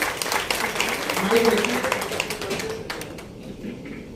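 A Rotary Club Varanasi Uday audience claps for Ajay Dubey at a Gandhi Jayanti event: steady scattered clapping across the room that thins toward the end, with someone talking over it.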